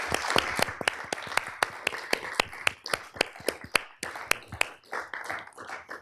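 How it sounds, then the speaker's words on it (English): A small audience at an academic lecture gives a thin round of applause, individual sharp claps clearly separated and fairly close, tapering off toward the end with little talk. "let's give Dr. Pinn another round of applause"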